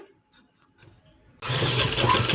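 A sewing machine runs steadily for about a second, stitching along a folded cloth edge, loud and close after a near-silent start.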